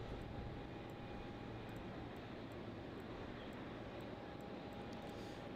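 SQ Cargo freighter jet taxiing at Melbourne Airport toward the freight apron, a continuous broad engine roar and whine held at steady loudness throughout, distant and without voices.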